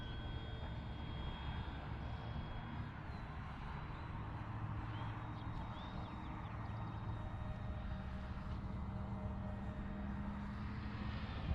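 An Arrows RC Tecnam 2010 model airplane on its maiden flight, a steady electric propeller drone with faint pitch changes as it passes overhead, continuous and fairly distant against outdoor background noise.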